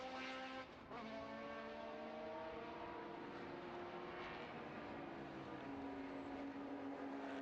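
Porsche race cars circle the Estoril circuit during a classic car race meeting, a distant, steady engine drone with faint gear changes and shifting pitch layered under a constant wide ambient wash.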